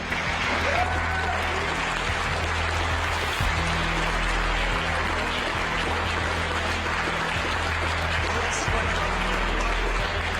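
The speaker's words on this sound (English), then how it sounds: "amidst applause here in the Mission Control Center" Sustained applause fills NASA's Mission Control Center after the James Webb Space Telescope separates from its launch vehicle, a steady dense wash of clapping from a room of people with cheering and voices mixed in throughout.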